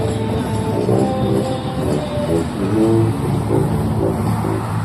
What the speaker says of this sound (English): A busy intersection, so the traffic.